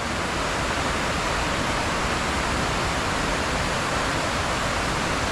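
Waterfall at Big Tumbling Creek, a steady, dense broadband rush of falling water, loud and unbroken, with no voices.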